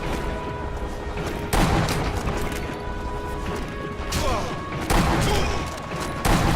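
Gunfire and explosive crashes from the World War II shooter game Sniper Elite V2, with several sharp, loud bursts at irregular intervals over steady background game noise.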